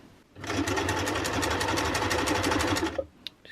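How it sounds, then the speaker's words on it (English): A simple standard domestic sewing machine stitching in reverse, a fast steady mechanical whirr and rapid needle clatter running close for about two and a half seconds, then stopping with a couple of small clicks. "I'll just show you how it sews. It's just a sort of simple standard machine really."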